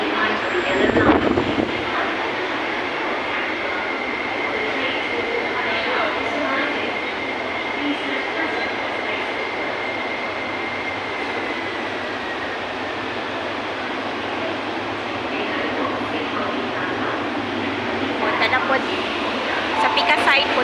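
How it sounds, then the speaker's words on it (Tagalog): A Hong Kong subway train pulls into the platform with a steady, loud rumble and a sustained high whine lasting throughout, while voices murmur in the background. "So ayan, mauna diyan na ang train."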